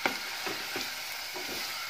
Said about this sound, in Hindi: अब मैं इसमें प्याज, हरी मिर्ची और अदरक जो मैंने चॉप करके रखी थी उसको डालूंगी।